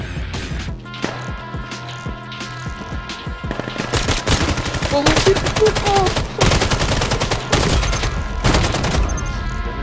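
Rapid pistol gunfire in the VR shooter Vail VR, loud and close, with dense bursts of overlapping shots building through the middle and continuing to the end, over game ambience.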